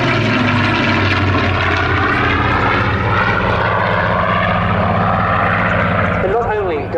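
Rolls-Royce-engined Spitfire Mark 19 flying a display at Southport Airshow, a loud propeller engine drone that rises and shifts in pitch as it passes, with a voice talking over it throughout.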